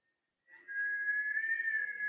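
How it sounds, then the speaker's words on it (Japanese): A person whistles a single sustained, slightly wavering high note that starts abruptly and holds clearly for over a second and a half, with faint background noise and no speech. "誰か口笛吹いてるから"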